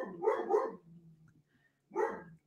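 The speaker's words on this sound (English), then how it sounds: "My dog's going crazy out there for something." A dog barks outside, two quick close-together barks, then a pause and one more bark, fairly faint and distant with no talking over it.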